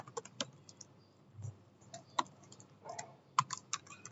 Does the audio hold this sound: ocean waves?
no